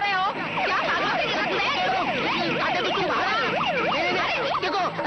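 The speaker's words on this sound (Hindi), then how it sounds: "देखो म्यूनिसिपालिटी की गाड़ी आ गई" A municipal vehicle's siren wails loudly and steadily, its pitch sweeping up and down in repeated cycles, with voices audible underneath.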